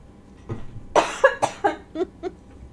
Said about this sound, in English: The cough brought some back.